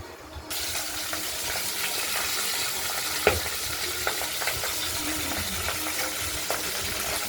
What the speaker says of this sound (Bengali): মাছগুলো সমানই তেল ছিটতে আসছে ভাজতে দিয়ে।